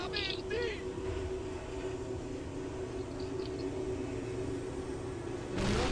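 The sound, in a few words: loud train passing nearby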